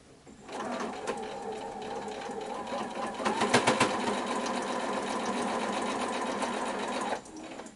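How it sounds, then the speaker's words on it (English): Sewing machine stitching fabric a quarter inch from a marked line: a fast, steady mechanical whir with rapid needle chatter, close and continuous for several seconds before stopping. "let's take it to the sewing machine"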